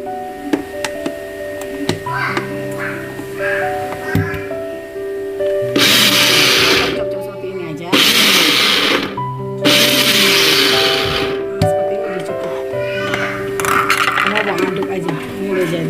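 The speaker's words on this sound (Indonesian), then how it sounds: "Kalau pakai smart blender misu ini" A smart blender chops garlic, ginger and onion in three short, loud whirring bursts, with pauses between them, over steady background music.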